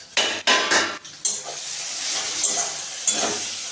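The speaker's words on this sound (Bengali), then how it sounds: "আমি এখানে ঢাকনাটা খুলে নেব।" Metal pot lid lifted off a pot of spiced masala cooking for a banana-flower ghonto, several sharp clanks and scrapes close by over a steady hiss of steam and faint sizzling, no talk.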